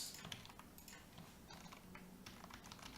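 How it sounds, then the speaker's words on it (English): Rapid typing on a computer keyboard, steady irregular clicks at close range with a constant background hiss and no voices. "Excellent typing once again, Renich."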